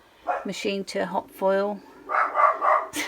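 Several short barks from a dog in a home craft room, mixed in with a person talking close by.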